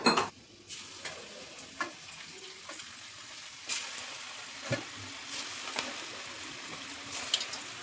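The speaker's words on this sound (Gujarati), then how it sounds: "મંચુરિયમની ગોટી બનાવવાની છે, તો તરી લઈએ" Manchurian dough balls frying in oil, a constant close sizzle and bubbling with occasional clinks and scraping as they are stirred.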